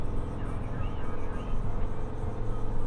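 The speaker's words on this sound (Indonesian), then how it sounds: "Unit Hino 500 Ranger FM" A Hino 500 Ranger FM 285 JD truck pulling in low gear on a mining haul road, its steady low engine drone and rumble continuing evenly at moderate level, with no one speaking.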